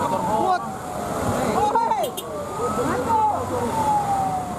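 Fire truck siren wailing during disinfectant spraying on Jalan Jenderal Sudirman in Lampung, a rising and falling tone over street noise, fairly close and continuous, with a voice speaking over it.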